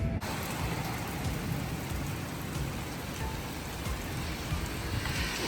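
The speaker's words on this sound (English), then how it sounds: "It is storming, y'all, so bad." Heavy rain pours down steadily during a thunderstorm, a dense continuous hiss with low rumbling underneath, close and loud throughout with no voices.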